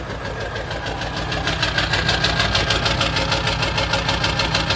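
A high-mileage Ford 7.3 Powerstroke diesel truck engine with big injectors runs rough at idle, a loud, steady, close rumble with an uneven knocking pulse and no talk over it.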